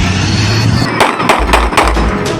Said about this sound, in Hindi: पुलिस की बारी नफरी और ये फायरिंग कर रहे हैं।